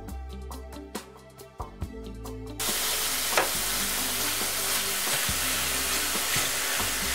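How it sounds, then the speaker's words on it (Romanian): Pumpkin and apple dropped into a hot pot on the stove, starting with a few clunks and thuds, then breaking into loud, continuous frying sizzle with occasional stirring knocks. "Am pus cratița pe aragaz, pun acum dovleacul și mărul pe care le-am amestecat mai devreme."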